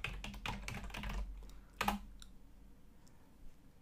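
Typing the ping command on a computer keyboard, a quick run of close, soft key clicks followed by a single firmer keystroke and a few faint taps.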